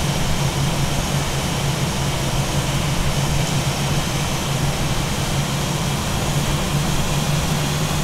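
An A320 airliner taxiing slowly toward the terminal, a constant loud jet engine hum and whine heard from inside the cabin, unbroken throughout with no talking.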